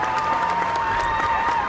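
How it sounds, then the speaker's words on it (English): Game sound effect of a crowd applauding in Frostpunk 2, a steady wash of clapping lasting under two seconds with no voices over it. "another round of applause for you"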